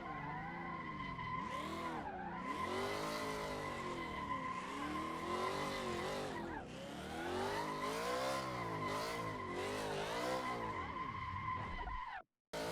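Car tires screech in long, wavering squeals while a car drifts, with the engine revving and pitch sweeping up and down through linked slides, loud and continuous, cutting off abruptly at the end.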